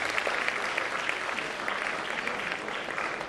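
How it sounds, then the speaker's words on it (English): An audience at a swearing-in and oath-taking ceremony gives a round of applause for parents, dense continuous clapping from many hands throughout, fairly near and steady. "Please can we give a round of applause to our parents?"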